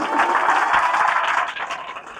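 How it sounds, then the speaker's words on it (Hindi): Sustained applause from a church congregation during a Good Friday sermon, a dense, steady wash of many hands clapping that fills the whole moment and eases slightly toward the end. "तालियां धन्यवाद करें।"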